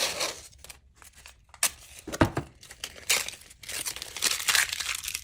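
Blue painter's tape pulled off the roll while assembling a simple wooden miter box, giving a close series of sharp crinkling, tearing rips with short pauses between pulls and no talking.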